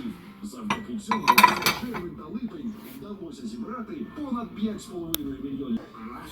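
Deep plates clink and clatter sharply a few times while people talk nearby in a store.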